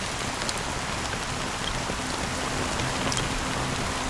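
Steady rain falls in the video game Honkai Star Rail, a dense, even hiss of drops on surfaces holding at one level throughout, with no talk and no thunder.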